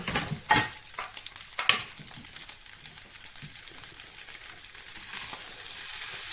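Beaten egg is poured into hot oil in a pan for turmeric pork fried rice, giving a few sharp sizzling bursts and stirring scrapes that fade into a steady, soft frying hiss.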